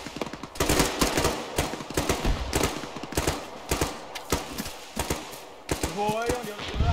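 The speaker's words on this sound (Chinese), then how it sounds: "机枪开始压制" Machine-gun suppressive fire in ArmA hammers out in rapid, closely spaced bursts of loud, punchy shots across the whole stretch, with a voice speaking over it near the end.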